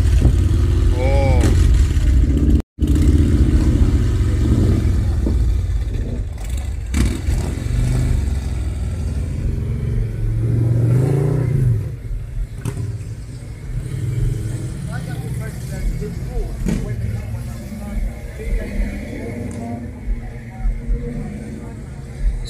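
Motorcycles rev loudly and rumble up close at a car cruise, the engine roar swelling and fading while people talk nearby.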